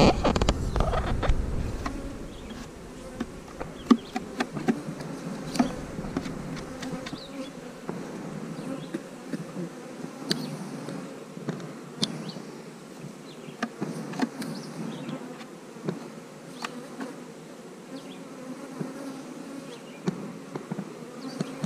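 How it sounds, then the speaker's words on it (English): Honey bees buzz steadily at a hive in a bee yard, a close, continuous drone with individual bees flitting past now and then and a low rumble at the very start. "there's a bunch of bees up underneath it"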